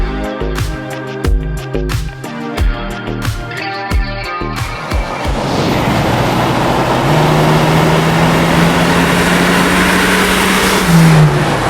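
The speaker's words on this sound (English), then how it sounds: "Such an easy and pleasurable car to drive" A Datsun 280ZX engine idles and then accelerates hard on a drive, rising to a loud, steady roar with a climbing mechanical whine, up close and with no talk.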